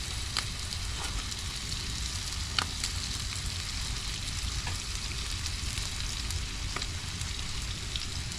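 Chicken livers sizzle and fry steadily in a pan over a wood fire inside a cave, with a dense continuous crackle and occasional louder pops, close and alone.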